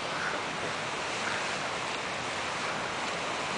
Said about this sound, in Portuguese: Tá agitado o mar hoje